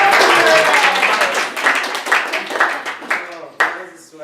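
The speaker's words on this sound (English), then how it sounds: "A round of applause." An audience at a film premiere Q&A applauds loudly, the clapping gradually thinning out and tapering off, with voices faintly audible under it.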